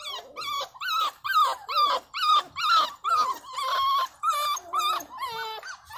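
Puppies give a rapid series of close, high-pitched whimpers and whiny yelps, some sliding into brief growly tones, repeating in short bursts with almost no gaps.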